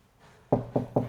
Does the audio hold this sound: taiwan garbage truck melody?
no